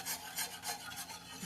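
A spoon stirs gravy in a pan, scraping in a steady back-and-forth rhythm, close and quiet with no voices.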